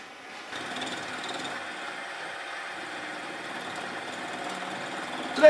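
A lathe turning a small brass cap gives a steady mechanical whir and buzzing hum that runs continuously at moderate level, with a brief louder clunk at the very end.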